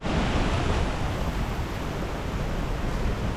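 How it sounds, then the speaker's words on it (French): A waterfall in Chiapas, Mexico, roaring as a loud, even, broadband rush of falling water that stays constant throughout with no voices. "On poursuit l'ascension de la cascade"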